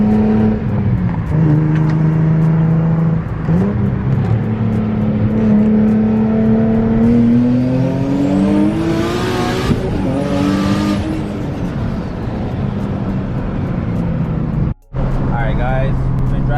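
A car engine revs and climbs in pitch as it accelerates, loud and close, with someone talking over it.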